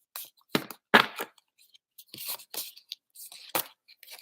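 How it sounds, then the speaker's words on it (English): Several quick, crisp riffling bursts of cards being shuffled, with brief pauses between them; close and fairly loud, no talking. "I'm going to shuffle up this new deck."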